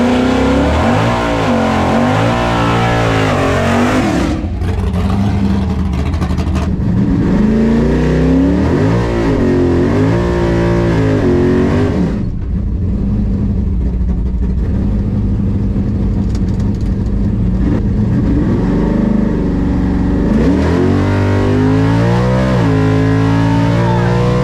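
An LX Torana hatch with an SB2.2 NASCAR engine races a track from inside the car: a loud, close V8 roar climbing and dropping through gear changes, with a brief lull partway before hard acceleration resumes.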